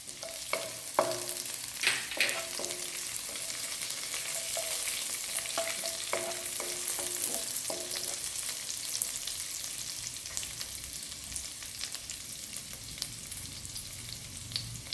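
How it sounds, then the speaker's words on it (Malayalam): Curry leaves, ginger and green chili fry in a pan with a steady, close sizzle, broken by a few short stirring clatters early on. "കറിവേപ്പില, ഇഞ്ചി, പച്ചമുളക് ഫ്രൈ ചെയ്ത് വരുമ്പോൾ"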